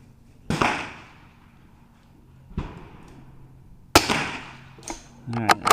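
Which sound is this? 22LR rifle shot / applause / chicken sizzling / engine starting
22LR rifle shot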